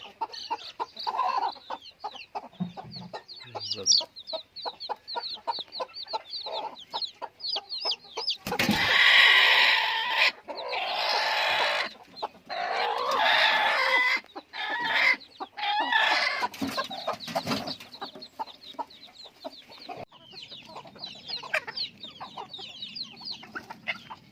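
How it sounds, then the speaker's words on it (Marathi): Hens cluck repeatedly nearby with a burst of louder squawking partway through, and thin chick peeps scattered among the calls. "इकडे बा कोंबडीने पिल्ल पण काढलेली आहेत"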